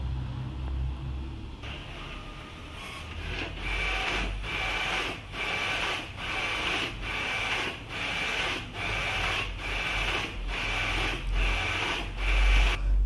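A printer runs through a document in a steady series of rhythmic passes, each a whirring mechanical sweep with a rubbing, rasping edge, repeating about every second for over ten seconds at close range with no talking.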